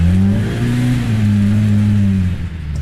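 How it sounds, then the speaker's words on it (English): Polaris RZR Pro R high-displacement, high-revving engine roaring loud and close, a sustained deep growl with pitch rising then settling as the revs hold, no voices over it. "The engine roar is unmistakable."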